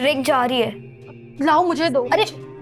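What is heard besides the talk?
None of the usual background noises is heard.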